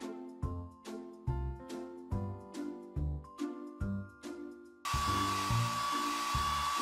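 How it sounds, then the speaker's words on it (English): A cartoon hair dryer in a PAW Patrol video game: playful musical notes pulse rhythmically, then a loud steady blowing whoosh with a high whine takes over at the end. "Tap the hair dryer to blow dry the pup's hair."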